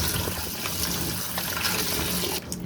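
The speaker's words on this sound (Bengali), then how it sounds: "এগুলোকে এখন ভালো করে ধুয়ে নিচ্ছি।" Beans, eggplant and new potatoes are washed in water, with steady close splashing and running water that stops abruptly near the end.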